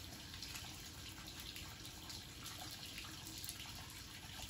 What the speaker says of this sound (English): And water continues to flow.